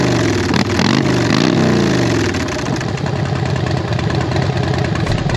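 Harley-Davidson Twin Cam Softail with Screaming Eagle Stage 2 cams and Vance & Hines performance pipes, rumbling loud and steady close by, with a revving swell early on before settling into a deep, choppy idle.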